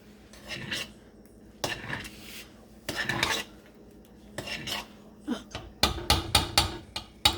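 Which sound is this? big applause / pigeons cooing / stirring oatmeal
stirring oatmeal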